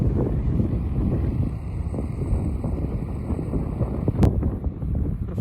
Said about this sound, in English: we're just watching one of the big cargo, well, a smallish cargo ship really, going through the River Mouth